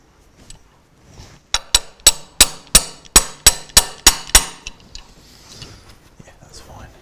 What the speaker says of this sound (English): Let's use this hammer.